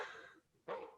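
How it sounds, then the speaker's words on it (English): A dog barks twice indoors behind a door, two sharp separate barks with a short pause between, fairly faint and with no one speaking. "She'll keep barking."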